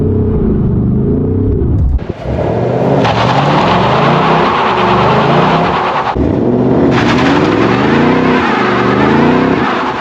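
A Ford Mustang Dark Horse is held stationary by its line lock for a burnout. The engine revs loud and close in long surging pulls, briefly dipping twice before roaring back up.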